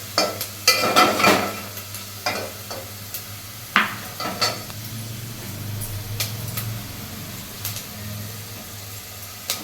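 Steady frying sizzle of ginger in a pan on low flame, with repeated scraping and stirring clatters from a utensil, fairly close, with no talking.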